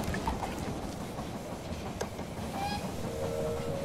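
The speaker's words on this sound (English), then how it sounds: "The train has arrived at the station." A train rolls into a station in the video game They Are Billions, a steady rumbling wash of rail noise with a few faint tonal squeals near the end, moderately loud and without speech.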